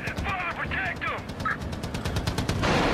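Rapid automatic gunfire rattles steadily in a video game, with bursts repeating throughout and voices talking over the shots.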